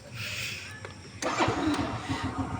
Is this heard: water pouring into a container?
no